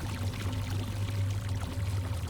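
Water pours steadily in a horror video game about performing a colonoscopy: a continuous, rushing splash with a low hum beneath it, unbroken for over two seconds.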